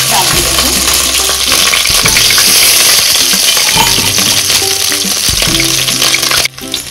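Spinach paneer prep: oil sizzling and frying steadily in a pan, with occasional stirring clinks and scrapes, loud and continuous throughout, no talking.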